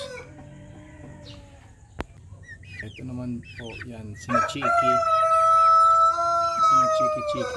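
Chickens cluck and a rooster crows nearby while a person speaks, the birds growing louder and more insistent toward the end.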